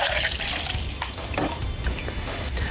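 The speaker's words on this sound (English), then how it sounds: "now we're just going to fill up this part with some milk" 1% milk poured into a cereal cup, a steady close liquid pour that fills the cup with a continuous splashing wash and no voices.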